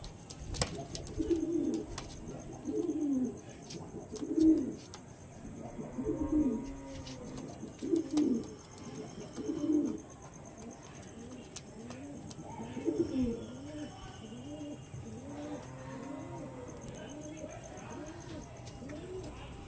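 Black diamond pigeons coo in soft, repeated rolling phrases, with someone talking over them and a steady high hiss in the background.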